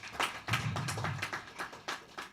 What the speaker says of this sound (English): wonderful hand clap.